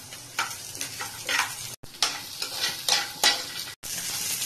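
Spoon stirring onion in a pan with oil, with repeated scraping strokes over a steady sizzle, close and fairly loud, with two brief dropouts.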